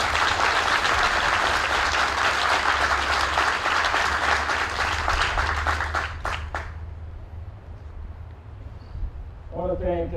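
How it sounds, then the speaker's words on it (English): A crowd at a 2019 military relief and appointment ceremony applauds the 1st Marine Division Band, a loud sustained roar of clapping that thins and stops after about six seconds, leaving room tone and a brief voice at the end. "So please give them a round of applause."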